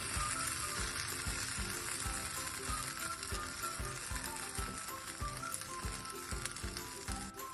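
An oats cheela sizzles steadily in a hot pan, a close, continuous frying hiss with a few soft scrapes and taps as it is turned over, no voices.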